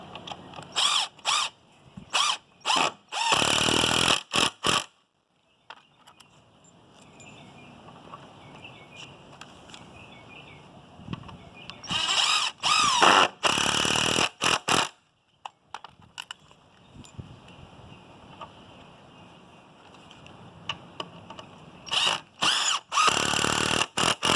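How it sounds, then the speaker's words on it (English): Power drill driving screws into a wooden leg brace in several loud, close bursts of whirring, separated by pauses filled with quieter handling noise and a steady background hum. "we're going to start attaching our screws"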